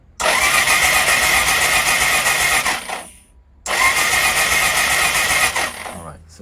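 Suzuki SV650S motorcycle engine cranking over with spark plugs out for a spark test, two loud sustained bursts of starter whir separated by a short pause.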